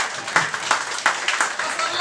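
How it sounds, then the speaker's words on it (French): Audience applauding at a press conference for a hip-hop album release, a brief round of dense clapping at moderate volume. "Et applaudissez pour moi."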